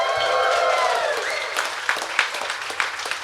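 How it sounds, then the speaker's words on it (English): A festival crowd applauds a fan walking to the front at a live podcast event, with clapping and scattered sharp claps while a voice trails off at the start. "Give him a round of applause."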